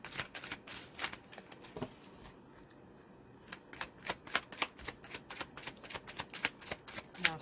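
Tarot cards are shuffled by hand close up, bursts of crisp riffling and flicking that pause briefly in the middle, then resume in a quick, steady run of snaps.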